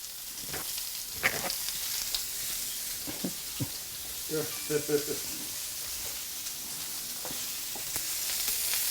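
Salmon fillets frying in a hot pan, a close, continuous sizzle with bursts of crackling and spitting, and brief stirring or utensil sounds over it.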